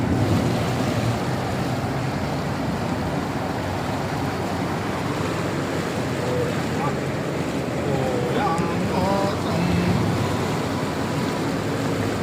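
Continuous loud rush of churning floodwater from heavy rain in Rajahmundry fills the scene, with wind buffeting and excited voices calling out over it.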